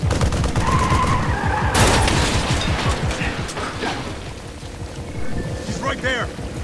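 Katyusha rocket fire rumbles in the stealth video game Splinter Cell: Blacklist, heavy rolling blasts and crackling bursts over a low roar, with voices talking over part of it.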